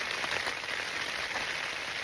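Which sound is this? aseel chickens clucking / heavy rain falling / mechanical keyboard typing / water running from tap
heavy rain falling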